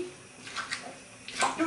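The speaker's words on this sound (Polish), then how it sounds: "Podlewamy wodą." Water poured into a pot of lecso stew with sausage, short splashing pours heard close and fairly faint, in two brief bursts.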